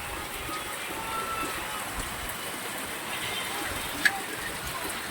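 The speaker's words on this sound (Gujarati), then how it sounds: "અત્યારનો એટલો વરસાદ વધ્યો" Steady rain falls in a soft, even wash of noise, with one brief sharper tap partway through; no voices stand out.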